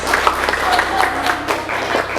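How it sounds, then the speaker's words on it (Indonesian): A classroom audience at a university teacher-training session in Yogyakarta claps for a presenting group, a brief, fairly close burst of rhythmic clapping with crowd murmur underneath. "silakan tepuk tangan dulu dong untuk kelompok ini."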